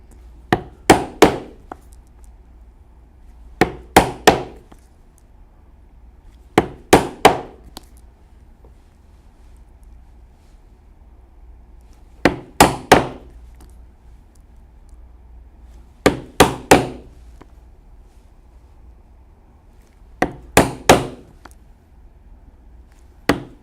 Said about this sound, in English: We will punch holes here for rivets, which will be 1/8" holes.